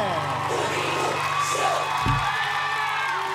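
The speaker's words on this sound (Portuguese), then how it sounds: "Brasil aplaudindo de pé." A TV show studio audience cheers and whoops over music, with shouts and voices rising and falling in a lively, loud crowd din.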